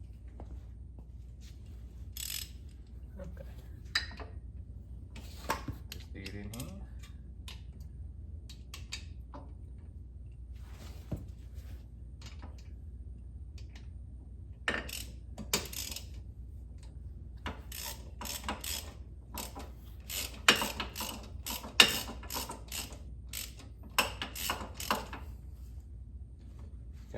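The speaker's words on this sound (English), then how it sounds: "I have to find, I think, a shorter socket." Quick bursts of clicking from a socket ratchet wrench working on a Jeep XJ during a one-ton axle rebuild, in short, irregular runs that grow busier toward the end, close and clear with no talk.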